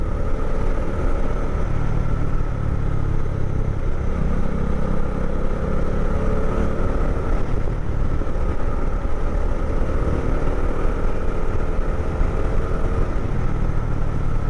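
Steady, loud motorcycle engine drone while riding a mountain road from Siliguri toward Mangan in winter, a continuous close rumble with wind noise and no speech.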